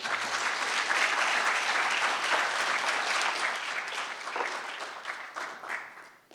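An audience claps to welcome a speaker at a defense symposium. The applause is dense and sustained, then thins into scattered claps near the end, with no talk over it.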